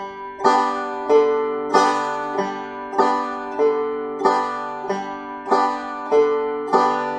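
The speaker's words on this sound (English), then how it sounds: "The thumb was picking the third string open, and now the thumb's going to pick the fourth string open" Fingerpicked open strings, thumb on the third and fourth strings alternating with pinches: a steady rhythmic pattern of plucked notes, about twelve attacks, close and clear, with no talking.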